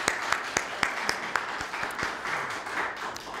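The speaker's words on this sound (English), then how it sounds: "perhaps we could have a round of applause for the many parents, friends, supporters, and family who have made possible your achievements." At a university economics debate awards ceremony, the audience applauds in a moderately loud burst. A few distinct claps stand out early before the sound settles into denser, even clapping.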